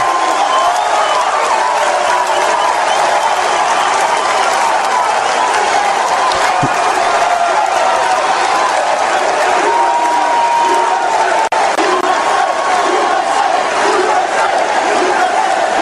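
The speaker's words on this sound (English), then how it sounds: "Crowd kind of likes that, don't they?" A large crowd at a political rally cheers and applauds in a loud, continuous roar, with voices mixed into the noise throughout.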